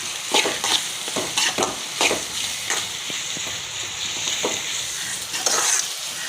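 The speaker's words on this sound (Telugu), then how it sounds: "ఇప్పుడు టమోటాలు మగ్గేంత వరకు దీంట్లో కొద్దిగా సాల్ట్ వేసుకుంటే తొందరగా మగ్గుతాయి." Tomatoes fry in a pan with salt, giving a continuous sizzle. Repeated scraping and clattering strokes of a stirring spoon come at an uneven rhythm over the hiss, close and fairly loud, with no talking.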